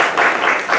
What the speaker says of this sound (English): let's give a round of applause for Tyhoon